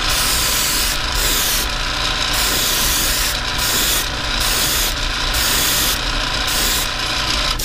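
Spray paint is applied to a fishing lure in a loud, continuous hiss, close up, cut by brief rhythmic breaks as the nozzle is released and pressed again.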